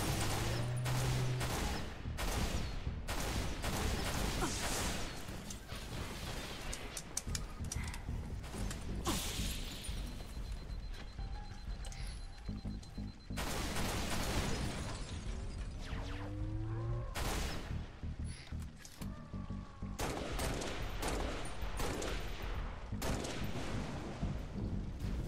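Repeated gunfire in Halo: Reach, dense bursts and single cracks of shots fired back to back at close range, with impact and shattering debris noise, loud and steady throughout with no talking.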